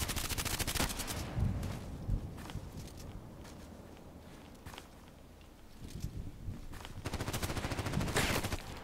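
Rapid HK417 rifle fire in a shooter video game, loud repeated bursts and single shots spread through the clip, with footstep-like movement sounds between them and heavier volleys near the end.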